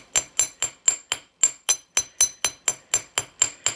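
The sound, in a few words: hammering copper wire to texture a bracelet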